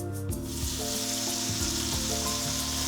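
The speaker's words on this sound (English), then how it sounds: "So now the garlic's soft, I'm going to add my tomato" Tomato hits a pan of softened garlic for crab linguine and sizzles in a steady, close, moderately loud frying hiss, with a faint tonal hum beneath and no voices.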